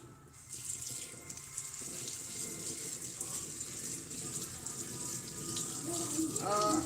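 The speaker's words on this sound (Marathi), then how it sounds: "हे पोहे आपण भिजून घेऊया पाण्यामध्ये" Poha being soaked and rinsed under running tap water, a steady faucet stream splashing into a bowl with gushing swells, close and continuous, while a person talks over it.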